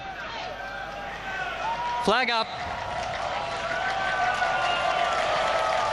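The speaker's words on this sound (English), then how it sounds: "Crowd gets chirpy." Racecourse crowd at Kranji before the start of the Singapore Gold Cup, a continuous murmuring roar of spectators under a commentator's voice, with a brief sharp tonal burst partway through.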